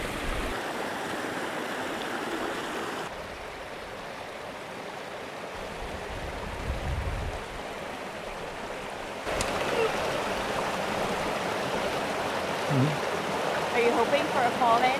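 Mountain stream of very brown, peaty water in the Mourne Mountains, a steady rushing flow close by, its texture shifting as the listener moves, with faint voices at moments.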